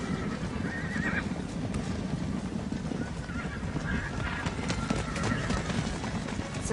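A herd of horses stampedes across a Montana pasture under cowboys, with a dense continuous rumble of running hooves and occasional whinnies and neighs, steady and loud throughout.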